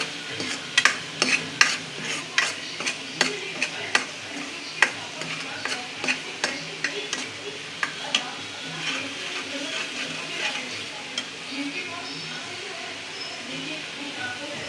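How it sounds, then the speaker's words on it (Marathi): Red-chilli masala sautéing in oil for pathrode bhaji as it is stirred. Repeated sharp spoon scrapes and clicks ride over a soft sizzle, with a voice faintly present at times. "आता चांगला तेल सुटोसवर चांगला मसाला परतून घेते"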